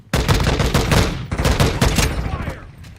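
Dense, loud automatic gunfire from Call of Duty Modern Warfare II fills nearly the whole stretch, sustained rattling volleys with a short break before the firing resumes and then trails off.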